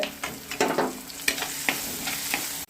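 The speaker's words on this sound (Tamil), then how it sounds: "கத்திரிக்காய் போட்டு வதக்கலாம்" Brinjal and garlic sauté in a pan for a fish curry, a steady close sizzle broken by several sharp scraping stirs and clatters from a spoon, with no one talking.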